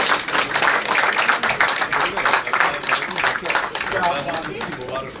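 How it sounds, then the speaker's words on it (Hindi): At the BJP head office in Trikuta Nagar, a group claps steadily and briskly to welcome prominent Kashmiri Pandits joining the party, with voices talking over the clapping throughout. "तालियों से स्वागत, तालियों से।"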